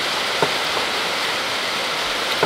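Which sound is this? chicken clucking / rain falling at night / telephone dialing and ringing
rain falling at night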